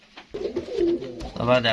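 Homing pigeons cooing in a loft, with soft throaty coos up close while someone talks over them.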